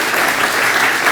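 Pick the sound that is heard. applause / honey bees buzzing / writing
applause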